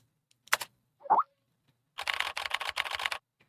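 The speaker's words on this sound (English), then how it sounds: "This is me typing right now." Computer keyboard typing: a couple of isolated clicks, then a quick burst of rapid keystrokes lasting about a second, close and clear over a silent background.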